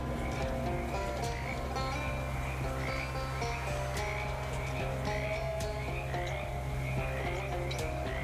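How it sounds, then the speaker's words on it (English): Many frogs croak in a bog in the video game Shadows Over Loathing, forming a dense, close chorus of rhythmic repeating croaks over a steady background drone. "Distant frog sounds become less distant frog sounds as you find yourself very close to a lot of frogs."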